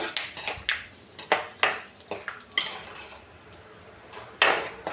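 Peanuts fry in oil in a pan while a spoon stirs them, giving sharp metallic scrapes and clinks in an irregular rhythm with a faint crackle beneath, close and fairly loud.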